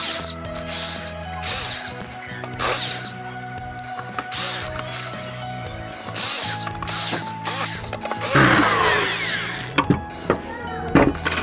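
A 1.5 sut drill bit boring a hole for a wood cutter gauge plate: bursts of whirring, grinding drill noise with ratcheting mechanical clicks, stopping and starting, with talk in between.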